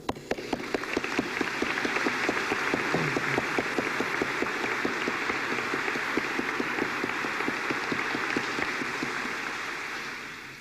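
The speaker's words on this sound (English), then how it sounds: "They deserve your applause." A large crowd at the 1996 Hamilton College commencement ceremony breaks into sustained, dense applause that holds steady for about ten seconds before gradually tapering off.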